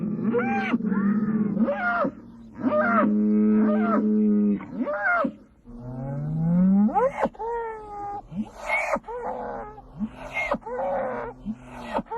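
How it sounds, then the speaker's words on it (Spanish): A Spanish fighting bull bellows repeatedly, long loud moaning calls rising and falling with harsh, groaning tones, close by and dominating with short gaps between calls. "El mugido fuerte y amenazador se llama bramido o piteo"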